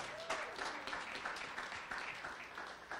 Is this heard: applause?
yes